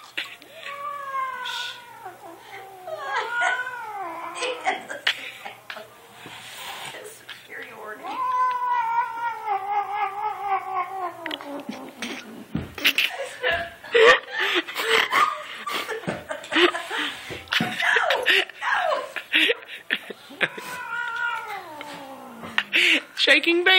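An angry, fat house cat upset by a new cat growls and lets out long, wavering caterwauls and yowls, near and loud, while people talk and laugh over it throughout.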